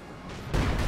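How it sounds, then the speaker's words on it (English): Demo charge explosion in the video game Company of Heroes 2, a sudden loud boom that bursts in midway and rolls on with a rumbling blast tail, preceded by quieter battlefield noise. "Nice explosion right there."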